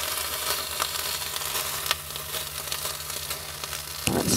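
Two bacon rashers sizzle steadily in a frying pan, a dense, close crackle running throughout with a few sharper pops and a brief louder burst near the end.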